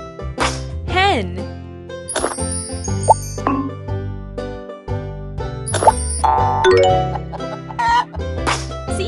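A hen clucks as the farm animal in a kids' educational game, several short clucks scattered over bouncy background music, plops and jingly effects, with a voice speaking.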